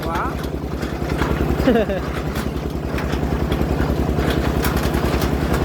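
An engine-powered drilling rig running steadily nearby, its loud rapid chugging pulse continuous, while a person speaks over it briefly near the start.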